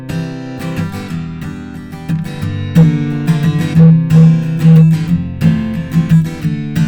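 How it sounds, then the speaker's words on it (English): Acoustic guitar strummed with a boomy, hooting low resonance that swells on each hit, a steady run of chords played alone with no voices. "It's just a foom, foom, foom, foom, foom that happens when I hit the guitar."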